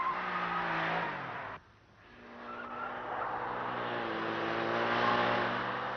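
A car on a test track driven to the extreme limit of the tires being tested. A steady engine drone mixes with squealing, skidding tires, drops briefly, then builds again with rising revs.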